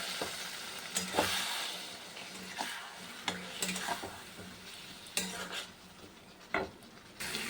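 Spices cooking in a pan with chili powder, cumin powder, salt and a little water, with a soft low sizzle under repeated scraping and clinking of a spoon against the metal pan at irregular intervals.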